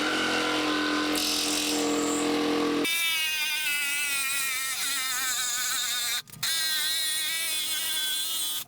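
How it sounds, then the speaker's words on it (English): A Makita cordless jigsaw cuts wood for a rolling shop stool, a steady high-pitched buzzing whine under load running the length of the clip, with a brief dip near the end. "this is absolutely one of the best jigsaws I've owned for cordless saws"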